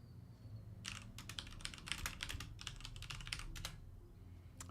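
Rapid typing on a computer keyboard, a dense run of crisp key clicks for about three seconds over a low background hum, with no talking.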